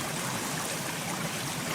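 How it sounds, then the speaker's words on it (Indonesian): Loud, steady rushing of river water in a forest, a broad continuous hiss with no breaks and no voices. "Kamu mendengar ada suara air yang keras di sungai ini, berarti di sini ada ikan."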